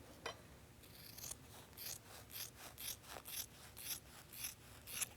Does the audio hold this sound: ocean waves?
no